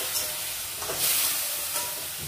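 Spices and crushed ginger sizzle and fry in a pan with a splash of water, with intermittent scraping stirs over a constant hiss, close and fairly loud.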